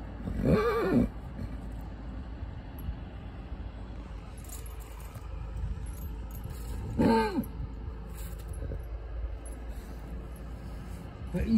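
A driving stallion neighs near loose mares in a field, two loud whinnies several seconds apart standing out over a quiet outdoor background, with faint jangling between them.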